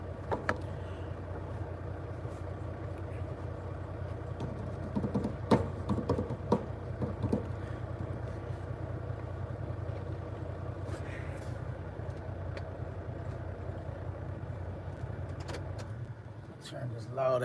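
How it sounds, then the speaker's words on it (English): A truck engine idles steadily with a deep, continuous rumble throughout, with a few brief clanks and rattles over the top. "Turn this loud ass truck off for a little while."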